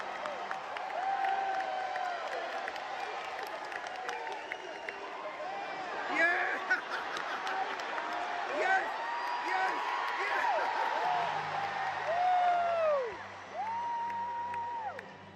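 An audience breaks into applause with cheering and whoops at the end of a played clip, a steady, fairly loud crowd roar with voices mixed through it for the whole stretch.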